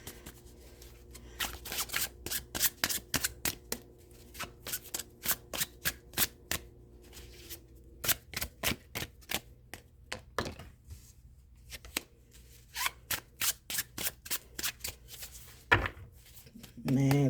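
Tarot cards being shuffled and turned by hand, a long series of crisp, close flicking and riffling bursts in an irregular rhythm, with someone speaking at points between them.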